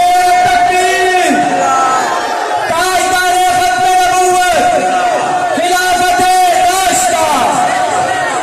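A large crowd at a devotional hamd and naat gathering shouts religious slogans in loud, repeated rhythmic waves, voices roaring together in unison bursts that fill the space.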